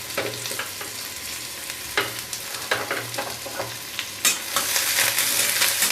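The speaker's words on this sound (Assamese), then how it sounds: "এই গোটেইখিনি মই ৰংচোৱা হোৱালৈকে ভাজিম" Spices frying in mustard oil in an iron wok, a steady loud sizzle with repeated scrapes and clinks of stirring, rising at the end; no talking.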